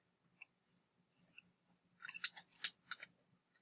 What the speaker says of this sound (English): I'm just folding everywhere there's a line.